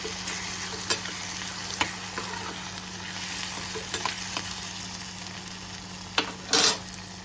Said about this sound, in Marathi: त्यांना मशरूमची भाजी बनवत ठेवली इथं मी पण.